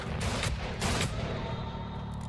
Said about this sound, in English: Beyond how bright and clear the gunshots are, the combat can start sounding very surreal at points.